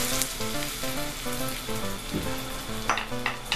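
Beaten eggs frying in a hot pan for scrambled eggs, a steady loud sizzle with occasional scrapes and clinks of a utensil, while faint music plays underneath.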